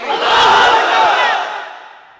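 Married men in a crowd at a religious gathering shouting the takbir call Allahu Akbar in unison, a loud swelling roar of many voices that fades out over about two seconds.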